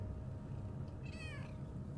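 A cat gives one short, clear meow at moderate distance over a steady low background rumble.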